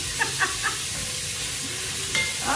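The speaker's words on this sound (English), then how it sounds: "See how I'm just letting the sausage get going in the bottom of my Dutch oven here?" Sausage sizzling in the bottom of a Dutch oven, a steady soft hiss and crackle with a few small stirring clicks and pops near the start and end.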